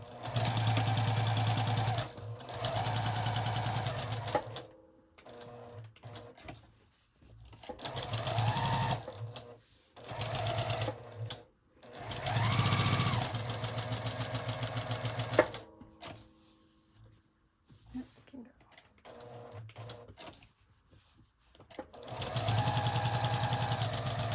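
A sewing machine stitches a fabric folio in several bursts of steady rapid whirring, some long and some short, with pauses between runs and occasional quiet handling noises.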